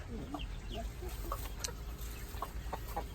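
Barred Rock and other laying hens cluck softly in a backyard coop, a scatter of short, quiet clucks and murmurs repeating over a steady low background rumble.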